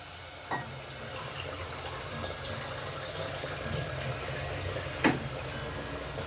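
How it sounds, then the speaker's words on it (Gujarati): Water poured from a glass into a pot of washed khichdi, a steady close splashing wash through the whole stretch, with a couple of sharp knocks along the way. "અને આ હવે પાણી ઉમેરી દઈશું."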